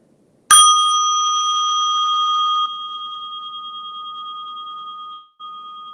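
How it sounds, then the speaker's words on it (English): A small Tibetan bell is struck once and rings out alone in quiet surroundings, a clear bright tone with shimmering overtones that sustains for several seconds and slowly fades. "I ring this little Tibetan bell, and all I ask you to do is place your attention right now, right here on this sound."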